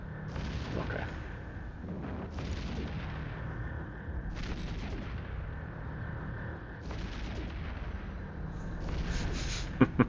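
Repeated weapon volleys in the space combat game Eve Echoes: heavy booming bursts roughly every two to three seconds over a steady rumbling background, with a sharp crack right at the end.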